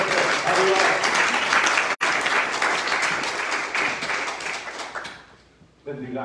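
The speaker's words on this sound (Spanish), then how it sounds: "Damos un aplauso fuerte a Dios" Loud, sustained applause from a church congregation fills the space, dense clapping with a brief break near the middle, then fading before a voice speaks at the end.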